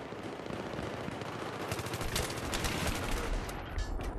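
Gunfire rattles through a crowded multiplayer conquest match in a PS3 video game, dense rapid automatic bursts and overlapping shots filling the whole stretch without pause.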